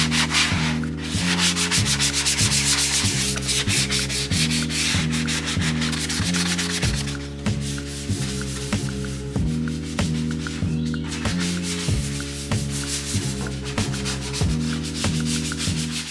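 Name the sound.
sanding over primer in a car engine bay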